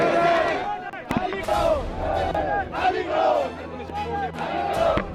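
A crowd of roughly two to three hundred local protesters with banners advances on the Singhu border protest camp, voices loud and massed in rhythmic chanting and shouting battle cries that rise and fall in waves.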